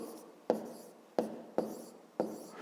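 A pen writes a fifth-grade math solution, giving four sharp taps as it touches the page, each followed by a soft fading scratch, close and alone.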